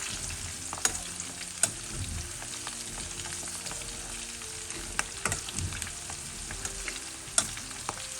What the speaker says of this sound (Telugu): ఇలా చూస్తున్నారు కదా, ఇవి వేగుతూ ఉన్నాయి.